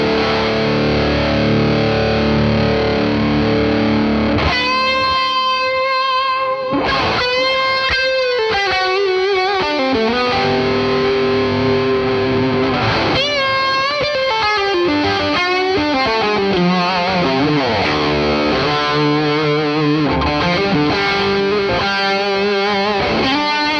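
An electric guitar played through a HeadRush rig with distortion, reverb and delay sounds loud and continuous, with sustained chords and melodic lines trailing into echoing tails.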